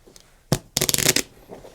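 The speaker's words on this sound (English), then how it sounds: "Shuffle the ones in your hand again." A deck of playing cards is shuffled in two quick bursts, a short riffle followed by a longer rapid flutter of cards, close and clear, with no talking.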